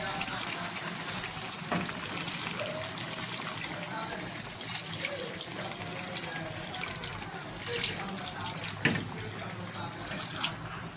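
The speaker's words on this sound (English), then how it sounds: "So guys, I'll be adding more water to the pot." Water poured into a cooking pot of egusi melon-ball soup, a continuous splashing, trickling rush at low volume with a person talking over it.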